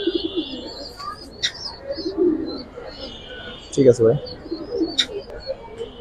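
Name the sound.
pigeons cooing at a pigeon market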